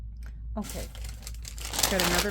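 A paper bag is handled and crinkled at close range for a short burst, papery rustles and crunches building louder toward the end, with a voice speaking briefly over it.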